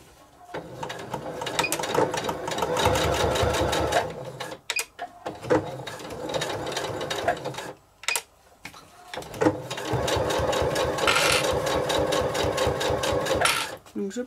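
Sewing machine stitching fabric for a beach bag, a fast, steady mechanical whirr in several long runs broken by brief stops, close and loud, with someone speaking over it.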